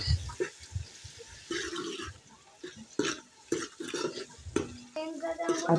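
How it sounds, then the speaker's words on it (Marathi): Onion sautéing in oil in a large pot on a gas stove, with intermittent stirring and scraping clatter, soft sizzle and a faint voice, rising and falling in uneven bursts. "आता कांदा परतून घ्यायचा आपल्याला हलकासा ब्राऊन कलर होईपर्यंत परतून घ्यायचा"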